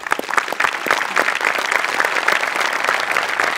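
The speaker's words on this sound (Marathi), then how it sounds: "सेटिंगवाल्यांसाठी सुद्धा एकदा टाळ्या व्हायला पाहिजे" A studio audience at a Marathi comedy show applauds for the stage crew. The clapping is loud, dense and continuous through the whole stretch, with a faint crowd murmur beneath it.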